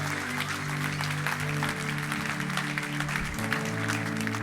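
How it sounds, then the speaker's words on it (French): Church congregation applauding and cheering during worship, a dense, steady wash of clapping with sustained tones beneath, likely music or voices, filling the whole space evenly. "Est-ce qu'on peut acclamer notre Dieu bien plus fort que ça?"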